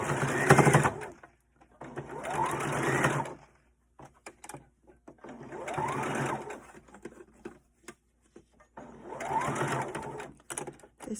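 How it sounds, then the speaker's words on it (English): Sewing machine stitching down the pleated side of a fabric face mask: three close bursts of whirring, rapid stitching, each a few seconds long, with quiet gaps between them. "Then I'm going to sew down the side,"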